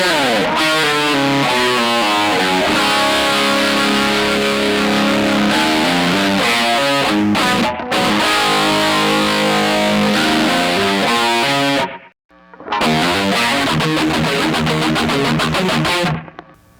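Distorted electric guitar plays a hammer-on riff on an open A5, running as continuous driven notes that break into a short gap near the twelve-second mark before resuming.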